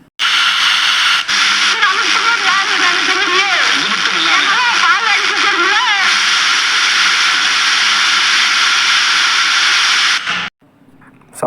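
Old FM radio playing after its switch is shorted with a screwdriver, loud hiss and static with warbling tuned voices coming through, then cutting out abruptly near the end.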